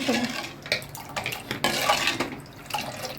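A spoon clinks and scrapes around a pot of watermelon pudding mixture with milk and sugar, steady stirring with metallic knocks and a wet slosh, close and fairly loud.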